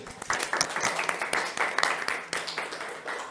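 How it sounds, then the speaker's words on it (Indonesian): Students applaud in a classroom during a teacher's performance assessment, a lively burst of many hands clapping with sharp irregular claps throughout, close and fairly steady for a few seconds. "Tepuk tangan untuk Anggi"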